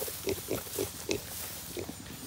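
Pigs grunt in a garden or yard setting, a series of five or six short, low grunts at irregular intervals over steady outdoor background noise, moderately close.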